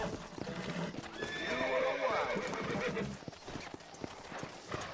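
Horse hooves clip-clopping at a gallop with a sharp whinny from a horse in the Red Dead Redemption video game, set under background game audio and faint voices.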